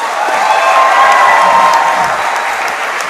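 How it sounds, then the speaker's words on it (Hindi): Loud, steady applause from a crowd of schoolchildren at a gathering tied to an Ultimate Kho Kho League event, dense clapping with a few whoops filling the whole stretch up close. "जोरदार तालियां बजाओ बेटा।"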